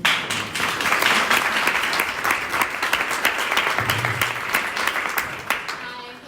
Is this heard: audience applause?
yes